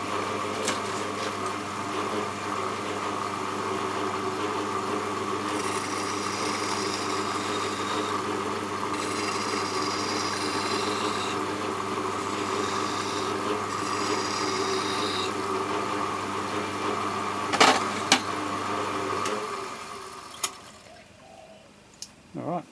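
A metal file removes a burr from the outside of a part spinning on a lathe, several bursts of rasping strokes over the machine's steady motor hum, which winds down near the end.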